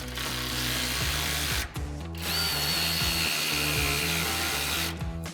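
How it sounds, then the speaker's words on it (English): Tightening pinch weld support bolts with a 10mm socket on a ratchet while installing side step bars on a RAM 2500. A loud, close mechanical whir runs in long bursts, with brief pauses near the middle and at the end, and no talking. "we can tighten down our pinch weld support bolts with our 10mm socket on our ratchet"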